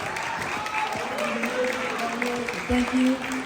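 Applause for an opera singer at a Korean culture celebration at HistoryMiami Museum rolls on throughout, with some voices and tonal sounds rising over it toward the end.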